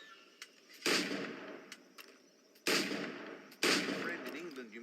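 Firearm shots in Assassin's Creed 4 Black Flag, three loud sharp bangs spaced about a second apart, each trailing into a ringing decay, with faint game ambience and small clicks between.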